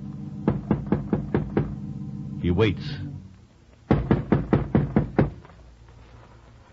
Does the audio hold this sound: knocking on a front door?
yes